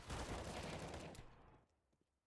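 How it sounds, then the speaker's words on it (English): Negev machine gun fire in Counter-Strike, a dense rapid burst of shots for about a second and a half that quickly fades into near silence, then ends with a short sharp thump. "the Negev finds a kill, and Negev finds a second one."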